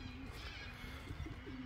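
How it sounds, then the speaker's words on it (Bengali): Pigeons in Wiley Park, Sydney coo briefly in a short burst of soft, low calls over faint outdoor background noise. "অনেকগুলো কবুতর"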